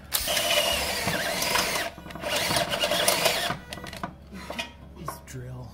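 A cordless drill whirs in loud bursts while boring a hole into a gas tank, with short pauses between runs and a brief voice near the end.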